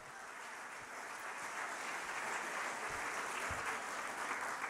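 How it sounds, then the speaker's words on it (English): Crowd applause at an outdoor healthcare rally, a steady spread of clapping from many people that grows slightly louder over several seconds, heard a little distant and without any talk. "Give them a big round of applause."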